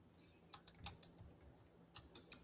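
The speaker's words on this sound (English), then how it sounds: "I'm going to type that in the comments." Keyboard typing comes in two short bursts of crisp, close key clicks separated by a brief pause, with no voices.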